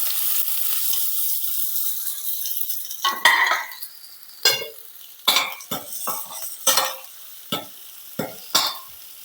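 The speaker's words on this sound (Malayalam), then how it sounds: "ഈ നെയ്യിലേക്ക് നമുക്ക് നല്ല ചോപ്പ് ചെയ്ത് വെച്ച ഉള്ളി ഇട്ട് കൊടുക്കാം" Chopped onions hit hot ghee in a pan for a Mangalorean egg roast, giving a loud hiss that settles into a soft sizzle, then a spoon scrapes and clinks against the pan in several sharp strokes.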